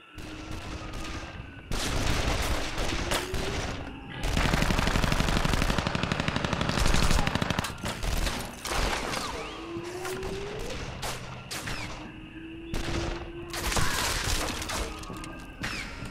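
Rapid rifle gunfire in the Dead Island video game rattles out in loud sustained bursts, separated by short pauses and mixed with crashing impacts and game sounds.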